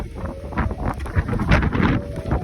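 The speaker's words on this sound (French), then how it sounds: "Il y a le vent qui se lève, c'est terrible." Wind gusts buffet the microphone outdoors, a steady rumbling roar that swells and eases for the whole stretch with no talking.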